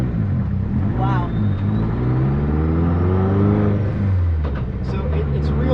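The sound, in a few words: 517whp VW Bug engine revving while driving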